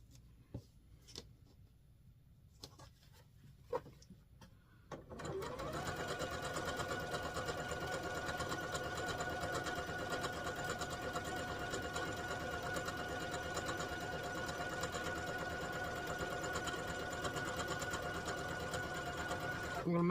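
A sewing machine stitches scrap fabric patches together into quilt units, starting after a few quiet handling clicks and then running steadily and loudly for about fifteen seconds without pause.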